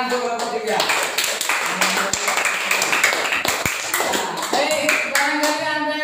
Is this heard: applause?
yes